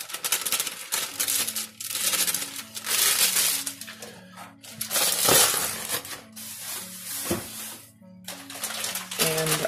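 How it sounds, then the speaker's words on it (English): Dry chocolate cake mix rustles and scrapes as it pours into a bowl, with crinkling packaging and low hums, a voice talking partway through. "we're just going to go ahead and pour in the cake mix."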